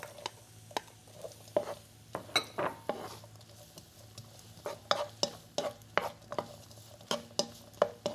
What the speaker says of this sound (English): Keep on stirring. Nice, already simmer. Then I put onions.